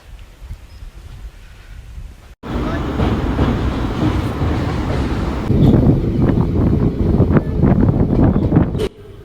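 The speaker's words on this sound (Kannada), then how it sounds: "ಈಗ ರೈಲ್ವೆ ಸ್ಟೇಷನ್ ಇದೆ KR ನಗರ" A train at KR Nagar railway station rumbles loudly and steadily for several seconds, with clattering wheels and wind buffeting the microphone.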